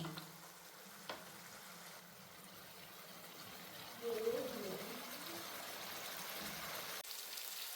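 Fish frying in oil in a pan, a soft steady sizzle that grows slightly louder partway through, with a person's voice briefly in the background.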